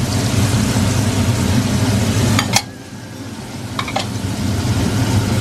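Onion and garlic sautéing in a hot pan for a pork chop dish give a steady, close frying sizzle with a low rumble under it, a brief dip partway through and a few faint utensil clicks. No one speaks.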